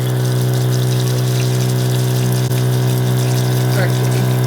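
Water rushes from a bus sink faucet in spray mode inside a converted school bus tiny house, a steady hissing flow over a constant low pump-like hum, with a brief clunk midway.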